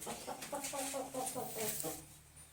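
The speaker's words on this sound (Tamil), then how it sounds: "நம்ம பொரி சேவல் பாருங்க எப்படி இருக்குதுன்னு" A rooster kept among backyard hens gives a run of rhythmic clucking calls, about eight quick pulses in a row, close and moderately loud, then falls quiet with no talking.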